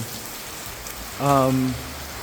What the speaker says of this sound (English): the retractable roof is drawn over, so it minimizes the rain, but rain still manages to get in